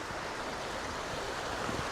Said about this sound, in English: the river speaks for itself.